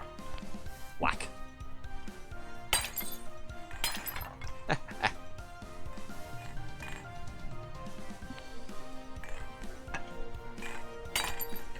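Plates and crockery shatter in the video game I Am Bread, with repeated sharp smashes and clinks of breaking china and glass, loud and irregular over continuous game background sound.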